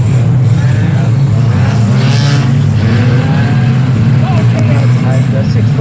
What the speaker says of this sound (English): the rest of the cars go racing by